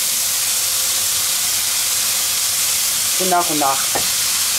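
Onions, pak choi and button mushrooms fry in a hot pan, giving a continuous bright sizzle and hiss, while someone speaks briefly near the end.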